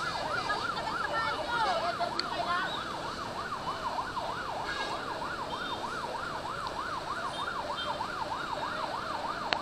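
A fire truck's siren wails in a fast, regular rising-and-falling cycle as it responds to a fire near SM Taguig on C5, loud and continuous over a low rumble of road traffic.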